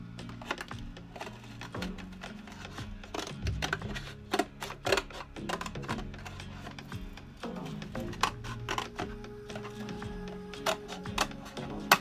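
Scissors snip through a plastic bottle while cutting a shape for a homemade bird feeder, a steady run of close, crisp clicks and crunches with faint handling noise between cuts.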